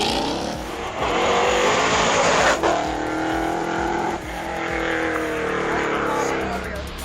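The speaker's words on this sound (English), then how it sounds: "This is the AMG GT 63 SE." A Mercedes-AMG GT 63 S E with 600 kilowatts climbing the Simola Hillclimb, a loud roaring engine with gear-change dips and some tyre noise, heard under a commentator's voice.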